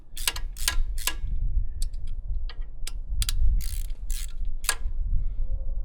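A 10mm socket ratchet clicks in quick bursts while loosening the oil filter cover bolts on a Yamaha TW200 motorcycle, close and crisp over a low rumbling background.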